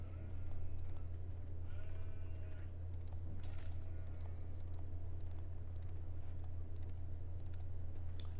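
A few short sheep bleats from the video game Age of Empires IV sound faintly over a steady low hum and background game noise, with no talking.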